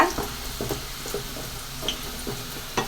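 Garlic fries in a pan for chutney with a soft, steady sizzle, broken by light spoon scrapes and taps at irregular moments, close and fairly quiet.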